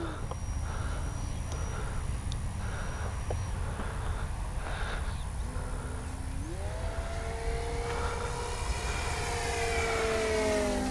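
A small propeller engine of a Durafly FG-1 Corsair RC model plane drones steadily, its pitch rising and sweeping as the plane passes and banks, with a constant high whine throughout.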